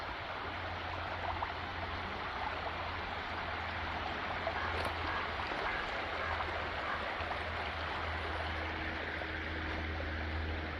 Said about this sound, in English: just more little waterfalls